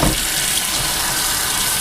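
A kitchen tap runs steadily as a sharp knife is rinsed under it, a close, continuous splashing hiss of water lasting a couple of seconds.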